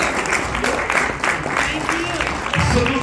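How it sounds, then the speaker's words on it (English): Audience applause at a hip-hop panel discussion, a sustained round of clapping from a crowd mixed with voices talking over it, fairly loud and continuous. "Give yourselves another round of applause."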